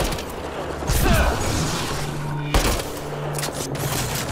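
Gunfire from the video game Mass Effect: Andromeda, with rapid shots and mechanical weapon sounds around a sharp burst midway, with game music and effects underneath throughout.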